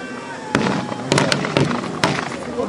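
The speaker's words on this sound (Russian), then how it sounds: "Уже снова начинается стрельба." Gunfire in a battle reenactment at an outdoor festival in Siberia near Novosibirsk: sharp, loud cracks fire irregularly over a dense bed of continuous crowd and field noise.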